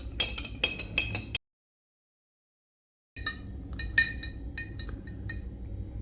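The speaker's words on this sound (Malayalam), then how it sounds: "ഇനി നമുക്ക് സ്പൂൺ വെച്ച് ഇളക്കി കൊടുക്കാം കേട്ടോ ഗൈസ്." A spoon stirs a homemade lemon drink in a glass, making rapid bright clinks against the sides in quick close bursts, with a silent gap partway through.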